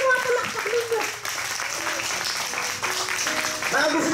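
Church congregation applauding during a Filipino worship service, a dense wash of clapping mixed with cheering voices and speech over it, continuing with brief dips.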